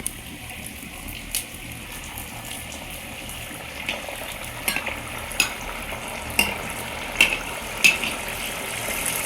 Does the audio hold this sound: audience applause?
no